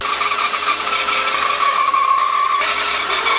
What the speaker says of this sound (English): Now my next option is my bandsaw.